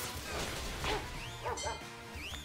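Game creature in Pokémon Violet barking repeatedly while running around, several short yips scattered over a busy backdrop of game music and effects.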